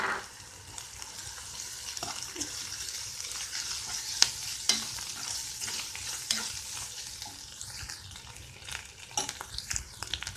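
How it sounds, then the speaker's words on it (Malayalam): Grated coconut stir-fried in a pan for ridge gourd and prawn thoran, with a continuous soft sizzle, scraping stirs and occasional sharp spoon taps against the pan, close and alone. "അപ്പോൾ നമ്മൾ തേങ്ങ ഇതിക്കണം നല്ലോണം മൂത്തിട്ടുണ്ട്"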